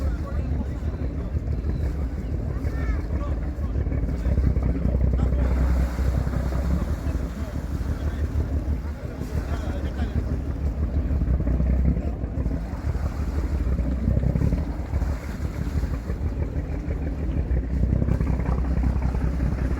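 Boat engine rumble and lapping water at the harbour in Ponta Delgada, Azores, with steady wind buffeting the microphone and faint voices in the background.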